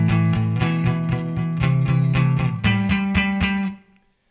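Electric guitar plays the first guitar part of the D section of a song, a steady picked pattern with effects-coloured tone, alone with no talk, shifting chord midway and ringing out at the close.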